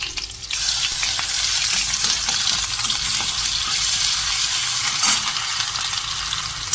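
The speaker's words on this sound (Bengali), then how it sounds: "কড়াতে আমি দিয়ে দিয়েছি তেল এবার দিয়ে দেবো সামান্য কাঁচা লঙ্কা আর দেবো" Green chili and ginger paste fry in hot oil in a wok, producing a loud, dense, continuous sizzle with faint stirring clicks close by.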